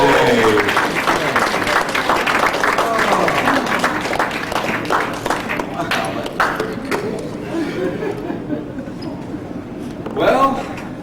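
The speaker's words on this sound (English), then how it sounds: "a big round of applause for these guys as they exit the stage" Audience at a Dayton 2004 Shock Theater horror-host show gives a big round of applause as performers leave the stage, dense clapping mixed with crowd chatter and a host talking over it, fading slightly toward the end.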